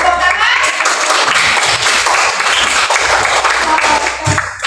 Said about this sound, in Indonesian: Bisa beri tepuk tangan.